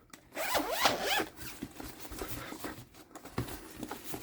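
A zipper running around a card binder album as it is closed, with a long rasping zip of bursts and sweeps, close and fairly loud, followed by softer handling rustles.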